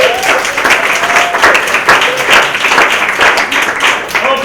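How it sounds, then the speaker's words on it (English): A crowd at a talk applauding loudly and steadily, dense clapping throughout with a few cheers and voices mixed in. "A big round of applause for me now"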